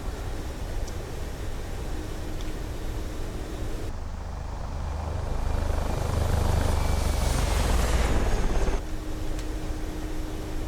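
A Mi-24P Hind attack helicopter in the DCS flight simulator drones with a steady, loud engine and rotor roar that swells for a few seconds in the middle before settling back. No one speaks.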